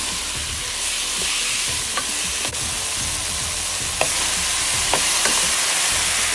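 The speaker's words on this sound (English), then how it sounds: "aromatics, which is the cinnamon stick and the star anise, and continue to saute this until it's brown" Beef sautéing in a pan with cinnamon stick and star anise for Vietnamese beef stew, a steady loud sizzle with occasional sharp clicks of stirring, no voices.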